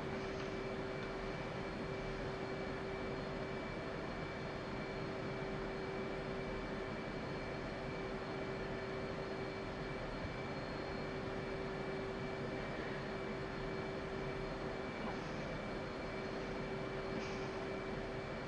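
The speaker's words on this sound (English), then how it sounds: "Is that a fucking P-51 taxiing on the goddamn taxiway?" A P-51 propeller aircraft taxiing in a flight simulator game, heard as a faint, steady droning engine hum with a constant tonal whine, unchanging throughout with no talk.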